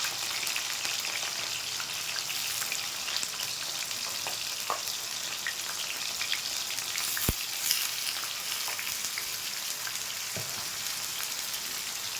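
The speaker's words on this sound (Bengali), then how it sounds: "বাঁধাকপিগুলো ভেজে নিয়েছি এবার তুলে নিয়েছি" Cabbage frying in hot refined oil in a wok gives a steady, loud hiss and crackle that runs unbroken throughout, with a few sharp pops and faint stirring scrapes and no voices.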